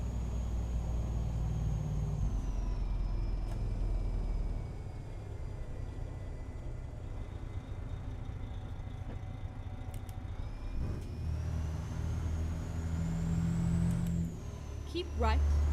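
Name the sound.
truck engine brake in American Truck Simulator video game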